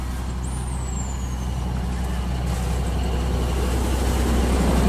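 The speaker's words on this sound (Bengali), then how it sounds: "কিছুক্ষণ অপেক্ষা করতে আরেকটা টয় ট্রেন এসে হাজির।" The Darjeeling toy train pulls in at Batasia Loop with a steady low engine rumble, a brief high hiss or whistle near the start, and a gradual swell in volume as it approaches.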